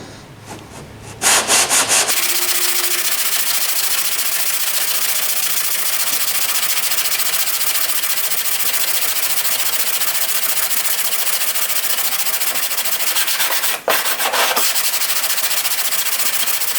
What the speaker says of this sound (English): So then you just go back to sanding some more.